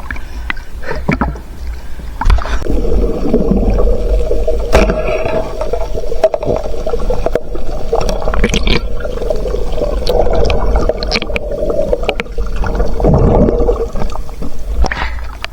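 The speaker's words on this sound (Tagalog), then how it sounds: "napakalapit lang ng dagat" Sea water close by, with a steady, loud wash of water and waves running through the whole stretch, swelling and easing in places, with no clear talk over it.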